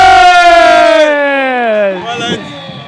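A rugby crowd at a Saracens match roars loudly after an intercept, a sustained rising and falling cheer in the stands that tails off into scattered shouts.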